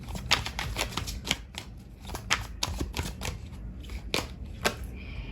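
Tarot cards being cleared and shuffled by hand, a steady run of soft riffling flicks and papery taps close up, fairly quiet and with no voice over them.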